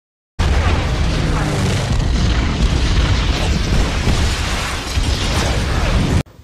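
Bombs explode over Tokyo in a World War II Doolittle raid film scene, a loud, sustained roaring blast that starts abruptly and runs for about six seconds before cutting off.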